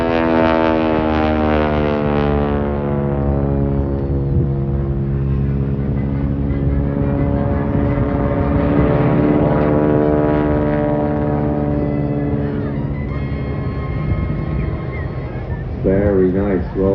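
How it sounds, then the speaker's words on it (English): A Harvard propeller aircraft performs aerobatics at the Blackpool air show, its loud droning engine rising and falling in pitch through the maneuver, sustained throughout with the sound shifting near the end. "the Harvard was fantastic, very strong, sturdy platform for flight"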